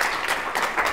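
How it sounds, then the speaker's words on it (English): Audience applause at an orchid-growing symposium on Cattleya greenhouse management, a steady wash of many hands clapping from a crowd, dense and even throughout the brief moment with no voices on top. "I'd like to have everyone just give John a round of applause"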